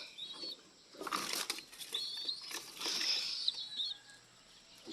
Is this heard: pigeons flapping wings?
yes